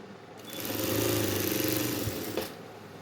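A sewing machine stitching folded lungi cloth, its motor whirring up into a fast, even chatter of stitches for about two seconds before slowing to a stop, close and fairly quiet, with no talking.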